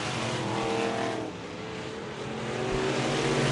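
Vintage race cars run a feature on the Merrittville dirt track, with a sustained mid-distance engine drone that swells and fades as cars pass, and engine tones shifting through the pack.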